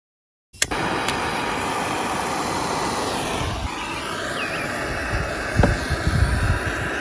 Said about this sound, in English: And I have grabbed the propane torch, as you see here.